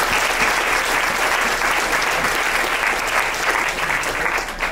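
A large audience at a university fraternity and sorority probate show claps loudly and continuously, a dense, steady roar of applause for several seconds.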